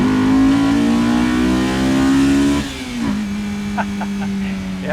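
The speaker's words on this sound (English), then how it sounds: "Yeah, clutch feels good. It grabs hard into second gear." A Honda S2000 revs hard in first gear on a neighborhood street, then the note drops sharply as it shifts into second and pulls again, loud and close from inside the car.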